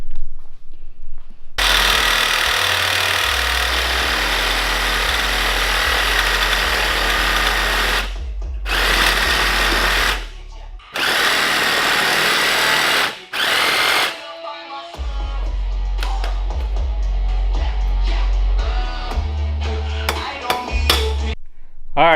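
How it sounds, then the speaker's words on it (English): A Sawzall reciprocating saw chops through a Mustang's anti-roll sway bar, loud rapid buzzing in long bursts with brief stops and restarts, harsh metal cutting close up. "I just took a Sawzall to it, chopped it right off."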